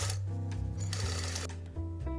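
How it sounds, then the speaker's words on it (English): Sewing machine understitching the lining of a dress, a quick close mechanical chatter with rapid needle clatter that briefly pauses and resumes, steady and moderately quiet. "you're going to do an understitch. So you're stitching the lining."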